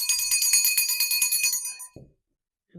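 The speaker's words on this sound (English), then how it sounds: "My mom's bell" A bright, ringing bell tone sustains steadily for about two seconds, then stops, with a few soft knocks beneath it.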